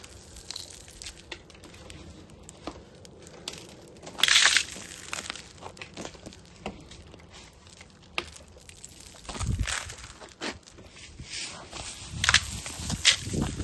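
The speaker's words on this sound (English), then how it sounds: "You can hear it the moment salt is falling. You can hear this melt." Granular salt pattering and crunching onto ice in a frozen downspout in scattered bursts, close and fairly quiet, with crackly crinkling textures and no voices.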